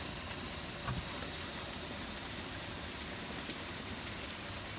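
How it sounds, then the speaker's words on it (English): Rain drumming on the ceiling of an indoor space during a wet day, a soft, steady patter of drops heard alone, fairly faint and continuous with no voices. "You should be able to hear the rain up on the ceiling here."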